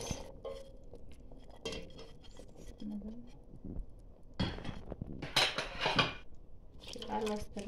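Potatoes tumble into a cooking pot over cooked meat, with clattering pot-and-utensil knocks and scraping bursts, a louder clatter near the middle, amid low kitchen background noise.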